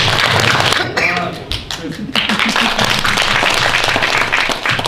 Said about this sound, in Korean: 우리 박덕섭 박사님께 큰 박수 한번 보내드립니다.